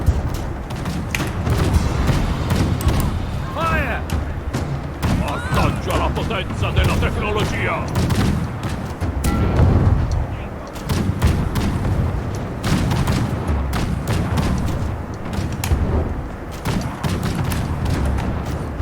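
Cannon fire during a castle siege in the video game Conqueror's Blade: repeated heavy booms and crackling volleys pound steadily throughout, with voices talking over the battle noise.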